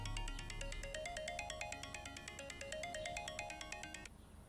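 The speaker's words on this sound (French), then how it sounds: "Maman, c'est ton téléphone qui sonne." A mobile phone ringtone plays a quick repeating electronic melody of bright pulsed notes, rhythmic and fairly quiet, continuing for about four seconds before stopping.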